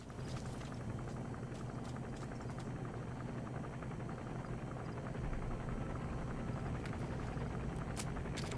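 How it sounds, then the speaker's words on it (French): A helicopter drones steadily in Metal Gear Solid 5, its rotor and engine a continuous, fairly faint hum with a fluttering texture, a few small clicks on top and no speech. "L'hélico, il revient, on se cache"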